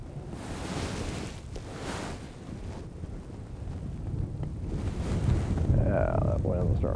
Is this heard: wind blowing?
yes